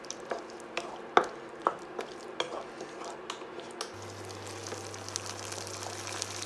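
A spoon stirring a prawn and oyster sauce mixture in a pan, soft scraping clicks and light taps at an irregular pace over a quiet background.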